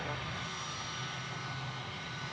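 Steady, loud jet engine roar from a Boeing 757 taxiing at Memphis airport, heard alone for a couple of seconds.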